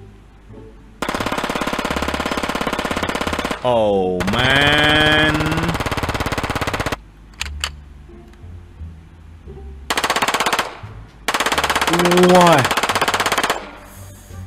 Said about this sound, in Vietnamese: Chúng ta đến với cây súng tiểu liên P90 nhá.